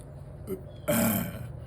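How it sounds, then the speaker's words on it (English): A big burp, loud and close, erupts midway after a short throaty sound, following a brief quiet lead-in. "Big burp."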